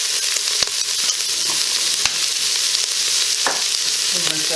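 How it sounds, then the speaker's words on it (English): Onion, celery and carrots with kosher salt sautéing in an Instant Pot, a loud, close, steady sizzle broken by occasional clicks and scrapes of stirring. "And let that saute and brown"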